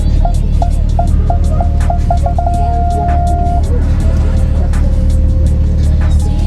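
A BMW G80 M3 idles steadily as it pulls up at a car meet, a loud continuous low engine rumble with a series of short beeping chimes early on and a longer tone, while people talk.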